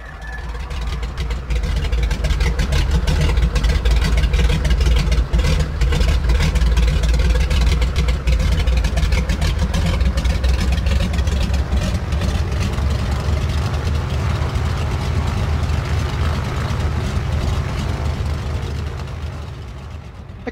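In Microsoft Flight Simulator, the left radial engine of a Grumman Goose amphibian starts, then settles into a loud, deep, rumbling run that drones steadily for about twenty seconds, with no speech.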